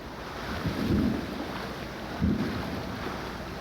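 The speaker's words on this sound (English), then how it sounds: "Thunder." Thunder rolls over a sailboat at sea during a squall, two low rumbling swells rising through steady wind and water noise, moderately distant.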